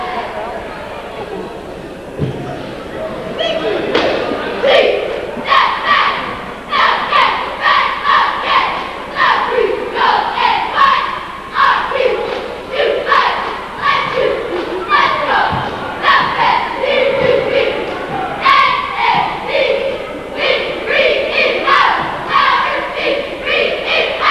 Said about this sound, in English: JV or varsity cheering squad on the floor.